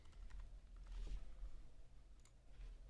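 Someone types a password on a computer keyboard, a soft, quick patter of faint key clicks over a quiet background.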